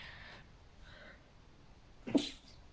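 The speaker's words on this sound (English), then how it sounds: "I just sneezed." A single sharp human sneeze bursts out near the end, close and fairly loud against a quiet room background.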